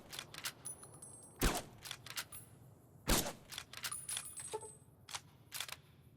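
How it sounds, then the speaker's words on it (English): Varmint rifle fire in Fallout New Vegas: a run of sharp cracks, two standing out louder, with scattered lighter clicks and impacts between them at a moderate level. "And this is also a varmint rifle"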